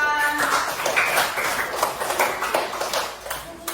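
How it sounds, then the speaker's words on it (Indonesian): A small group claps in a classroom setting, producing a loose, uneven patter of hand claps that rises and thins over a few seconds, fairly near. "tepuk tangan Flora."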